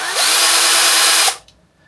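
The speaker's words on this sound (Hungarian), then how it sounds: "a fúróval ugye a talpába 6-6 darab lyukat mindegyikbe belefúrunk" A power drill with a pointed wood bit whines loudly and steadily while boring a hole into a wooden base, then spins down and stops with a small clack.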